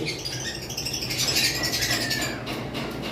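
Pet lovebirds and cockatiels squawk and chirp close by, a steady run of overlapping calls with brighter bursts in the middle and end.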